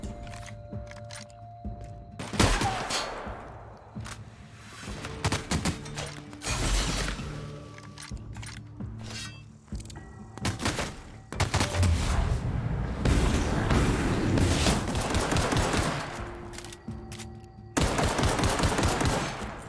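Pistol gunfire in the video game The Outer Worlds comes as scattered loud shots among clanking mechanical game sounds and bursts of dense combat noise over about twenty seconds, with no one talking.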